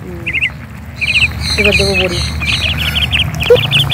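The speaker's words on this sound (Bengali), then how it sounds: "পাখি ডাকছে না?" Jungle birds squawk and chirp in short repeated bursts at moderate distance, while a person talks nearby over the calls.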